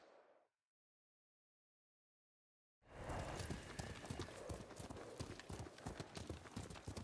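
Horse hooves clip-clop in the video game Ghost of Tsushima: a brief faint sound, then silence, then loud, close, rapid hoofbeats with a busy rhythmic clatter that continues steadily to the end.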